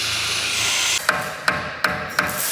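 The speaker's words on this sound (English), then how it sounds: "So what are you hammering here, what?" A steady hiss gives way to four sharp metal hammer strikes, spaced roughly evenly, as a brake caliper on a Golf R is tapped to push its piston back.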